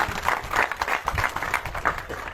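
A crowd at a garland-and-welcome ceremony for Ravindra Singh bursts into enthusiastic applause, close, dense clapping that swells and dips in quick uneven waves.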